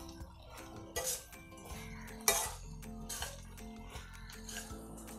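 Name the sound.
mixing okra bhaji in a pan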